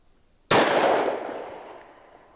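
A single loud shot from a Ruger Super Redhawk Alaskan .454 Casull revolver fired outdoors at a sign, a sharp crack followed by a long decaying echo.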